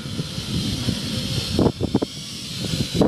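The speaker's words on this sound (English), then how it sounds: "Yeah, it's a lot of wind." Strong, steady wind roaring across an open field during a 25 mph gust test of a small recon drone, a continuous broadband hiss with louder buffeting gusts near the mic.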